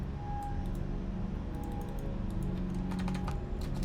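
Arrow keys tapped on a computer keyboard, a quiet run of light plastic clicks over a steady low hum, with no talking.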